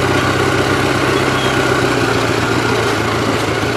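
A Gravely 8163-T tractor engine running, due for a carburetor clean, a loud steady drone with constant low rumble, close by.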